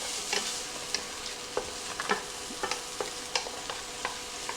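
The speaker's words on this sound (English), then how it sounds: "Just give them a nice saute." Peppers sautéing in a pan as a quiche filling: a constant close sizzle with repeated sharp scraping and tapping strokes of a utensil stirring at an uneven pace, and no speech.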